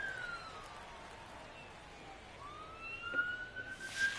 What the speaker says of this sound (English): it looks like we're having the sound of the ambulance